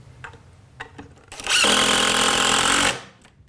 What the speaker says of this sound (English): And so I'm going to just get this screw in first.